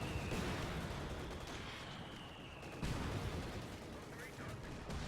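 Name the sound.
mortar firing in video game Company of Heroes 2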